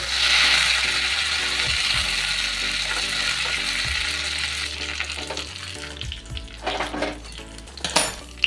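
Asafoetida dissolved in ginger juice hits a hot ghee tempering for a chana dal and papaya curry, giving a steady loud sizzle that fades over several seconds, followed by a few clinks and scrapes of utensils against the pan.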